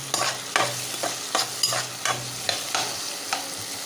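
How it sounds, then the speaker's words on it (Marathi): Onion and tomato frying in hot oil for a pigeon pea curry gravy, with a spoon stirring in steady repeated scrapes over a continuous close sizzle, no voices. "हे बघा, कांदा मस्त एकदम पोळून झालं."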